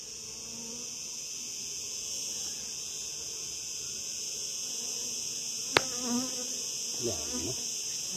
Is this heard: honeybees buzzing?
yes